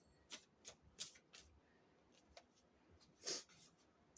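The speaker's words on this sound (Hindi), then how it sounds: "I need to shuffle once more." A deck of tarot cards being shuffled by hand: several soft riffling bursts and slaps spread over a few seconds, quiet and close with no talking.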